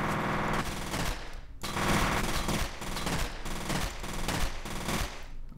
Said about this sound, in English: My gun seems to be firing very awkwardly